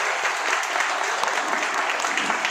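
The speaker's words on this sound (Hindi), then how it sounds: "यह जोरदार तालियां आप सभी के लिए।" Loud, steady applause from a crowd at a karate competition event, dense clapping holding evenly throughout without pause.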